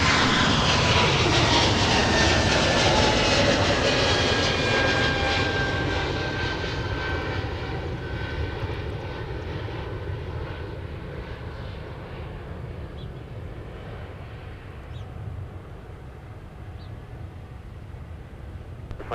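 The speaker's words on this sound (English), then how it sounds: "Flight 2644, ascending into the cloud layer, and we'll be above it here pretty soon" A Delta passenger jet takes off and climbs out of Minneapolis–Saint Paul airport, a loud, broad engine roar that slowly fades as the aircraft recedes into the distance, with no voices.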